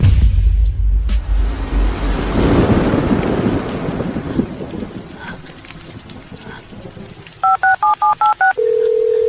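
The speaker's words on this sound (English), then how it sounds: "Answer the phone, Joe Yu." A telephone rings near the end with a quick series of short electronic two-tone pulses and then a steady tone. Before it comes a loud, rolling, thunder-like rumble.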